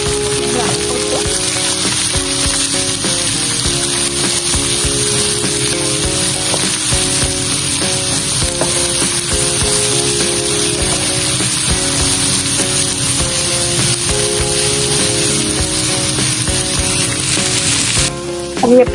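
Finely chopped onions go into hot oil with popped mustard seeds for a prawn thokku. They sizzle loudly and steadily, close up, for the whole stretch with no talking.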